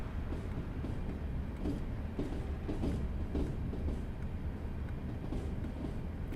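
A Class 37 diesel locomotive rumbles steadily in Train Simulator Classic, with a low continuous engine drone and faint rhythmic wheel clatter, alone and unbroken throughout.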